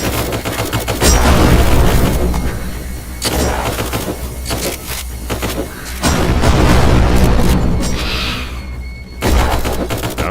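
A video game grenade blast and gunfire make a loud, dense wall of booming explosions and rattling shots that rolls on for about ten seconds with brief dips between the bursts.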